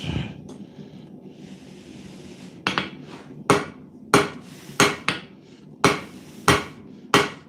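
Metal bottle opener keychains are hammered by hand. After a quiet start come about eight sharp, ringing blows in a steady rhythm, loud and close, with soft shop noise between them.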